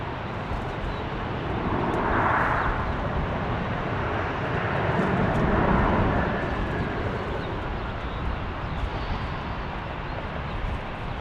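A Sun Country airliner roars steadily at Minneapolis–St. Paul airport, a loud, continuous jet engine rumble that swells slightly and holds across the whole stretch, heard from the spotting area with no talking.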